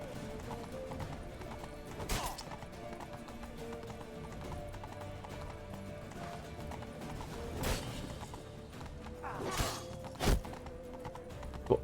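Horse hooves in the video game The Witcher 3, soft clip-clop steps with a few louder thuds and a brief whinny, fairly quiet over a low game soundscape.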